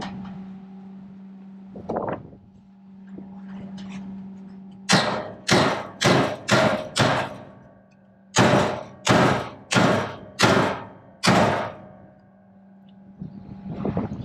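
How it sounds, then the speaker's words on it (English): Metal hammer blows knocking a bent part straight on a Case 8840 windrower, one early tap followed by two loud, close bursts of strikes, five then four, in a steady rhythm with pauses between. "Let me try banging that out a little bit."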